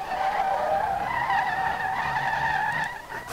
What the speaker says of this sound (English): Why is it spinning its tires constantly?